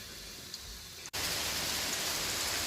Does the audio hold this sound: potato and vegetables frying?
no